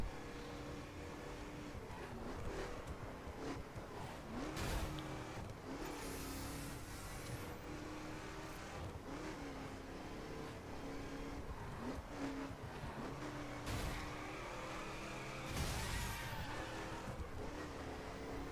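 A car in The Crew racing game revs hard with its wheels spinning, a steady, strained engine drone that rises and falls over many seconds, with brief bursts of louder revving.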